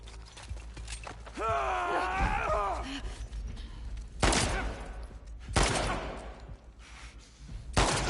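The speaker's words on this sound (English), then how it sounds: "Do I need to put so many bullets into him?" Gunfire in the video game The Last of Us Part II comes as several sharp, loud bursts spaced a second or two apart, after a stretch of creaking and groaning mechanical noise.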